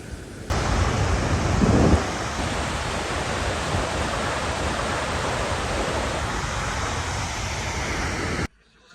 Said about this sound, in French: un petit arrêt pour admirer toujours ces petites chutes